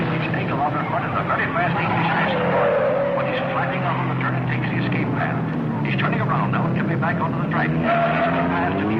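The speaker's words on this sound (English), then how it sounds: "He's crowding Myers into the turn, and Myers can't make it" Race cars from 1955 roar and whine at speed into a turn, engine tones rising and falling under excited commentary that runs throughout.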